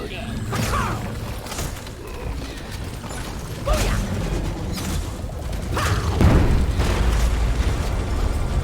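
Grenade blasts in the Deep Rock Galactic co-op shooter, several muffled booms and bursts rolling one after another under continuous gunfire and game noise, with a player talking over them.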